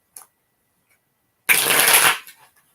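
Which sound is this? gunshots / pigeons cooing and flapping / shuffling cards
shuffling cards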